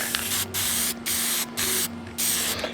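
Aerosol spray coating being applied to rusty bolts, giving them a gold-bronze color, in five or six close, steady hissing bursts separated by very brief pauses.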